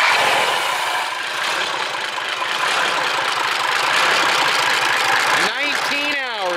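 Mercedes Unimog 416 diesel engine cranking over and settling into a steady, loud idle close by, with a rising whine near the end.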